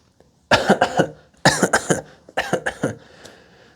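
A person coughs hard in three separate fits, each a quick run of several harsh coughs, close and loud with short pauses between.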